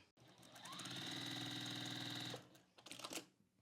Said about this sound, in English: we're going to sew them together so that we have our print on top and our background on the bottom